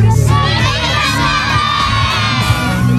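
Lively crowd at a rural carnival parade in Santi Cosma e Damiano cheering and shouting, with children's high whoops and yells close by, loud and continuous alongside the float.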